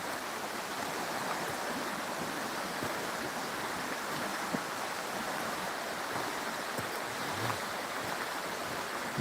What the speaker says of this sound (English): The water's definitely getting faster up this end.